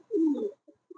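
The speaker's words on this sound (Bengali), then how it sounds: "দেখতে পাচ্ছেন এখানে একজোড়া গ্রিবাস" A pair of Giribaz pigeons at a farm in the morning gives one close, low, throaty coo, followed by a couple of brief, soft murmurs.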